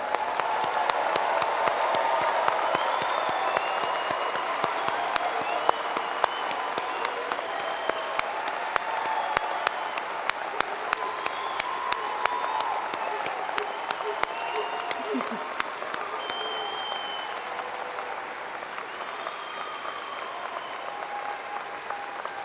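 An audience applauds newly conferred Penn State doctoral graduates at a Graduate School commencement, sustained dense clapping from a large hall crowd that fades slightly toward the end.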